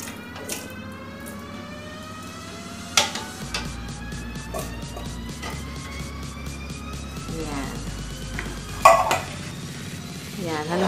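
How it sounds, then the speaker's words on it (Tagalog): A spoon stirs a maja blanca coconut-milk mixture with sweet corn in a pot, making soft scraping and occasional clinks against the metal. Rising and falling siren-like tones and faint voices sound in the background. "Haluin natin"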